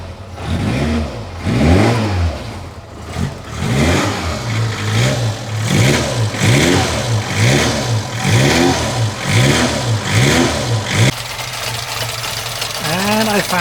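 An Abarth car engine revs in a series of rising and falling throttle blips over about ten seconds, loud and close, then settles to a steady idle, with a person speaking over it.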